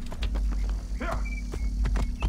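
A horse walks in Assassin's Creed Origins, its hooves clip-clopping in an uneven series of moderate thuds over a low droning background.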